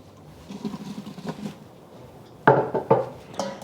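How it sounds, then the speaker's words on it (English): Aromatics clatter into a pressure cooker for pork ribs adobo: a few soft knocks and rustles, then two or three sharper, louder thuds of ingredients landing in the metal pot, close and without talk. "adding my aromatics to the pressure cooker"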